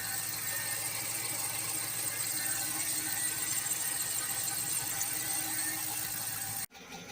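A 2014 Dodge Charger with a 5.7 Hemi V8 idling just after a cold start, a steady, even hum with a high whine on top, heard close and alone until it cuts out near the end.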